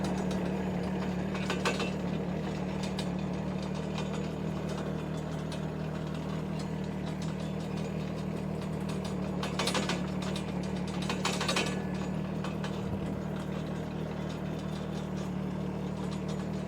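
A 1.2 ton Chinese mini excavator runs its engine in low travel mode with a steady low drone, while mechanical clanks and ratcheting track noises come through at intervals.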